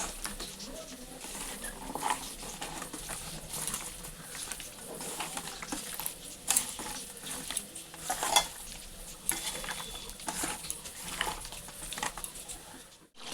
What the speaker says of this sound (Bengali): এখানে মাংস কষা হচ্ছে